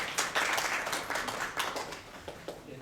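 An audience at an architecture and urban forum claps briefly to welcome a speaker, a short, fairly faint patter of hands in a hall with no voices.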